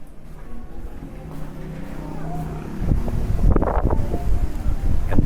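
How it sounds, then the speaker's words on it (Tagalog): Strong wind buffets the microphone outdoors at a private resort, a continuous rough rumble that grows heavier and gustier toward the end. "Oh, lakas ng hangin."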